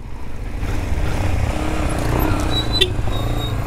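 A Kawasaki Ninja 400 motorcycle engine runs steadily up close, with a low rumble and a slight rise in revs, under road and wind noise.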